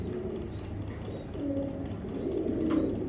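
Racing pigeons coo softly in low, rolling phrases, a few overlapping calls that swell toward the end, faint and fairly close, with no talking.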